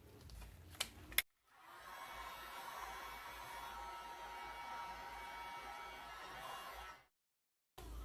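A heat gun blows over a wet resin painting, a steady soft hissing rush of air that starts after a few clicks, holds evenly for several seconds, then cuts off abruptly.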